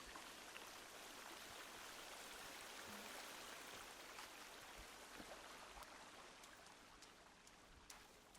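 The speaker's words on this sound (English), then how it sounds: "Lovely little waterfall." A small waterfall in the video game Sons of the Forest gives a faint, continuous rushing wash of falling water, steady and distant with no other sounds.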